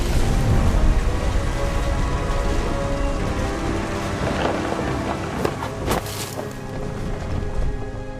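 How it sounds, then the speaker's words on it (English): Steady thunderstorm rain in the video game What Remains of Edith Finch, a dense, continuous wash of downpour with a few sharper crackling bursts midway, loud and close with no voices. "Thunder sounded much too close and full of angry power"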